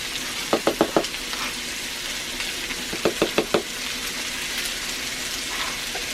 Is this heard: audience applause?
no